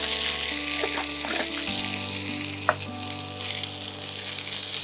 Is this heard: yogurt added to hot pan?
yes